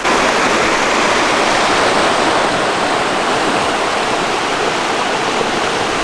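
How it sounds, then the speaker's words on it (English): A river rushes near Goat Rock on Dartmoor in March, a steady, loud, broadband roar of flowing water that holds constant throughout with no voices. "I suppose the river would be a bit noisy in the night"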